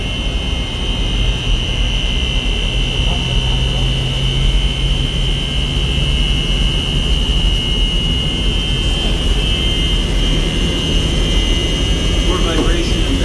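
A theatre pipe organ blower motor rated at 1200 rpm runs steadily, giving a loud, unbroken roaring drone with a high whine held through the whole stretch.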